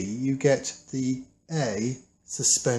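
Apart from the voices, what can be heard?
No everyday noises stand out.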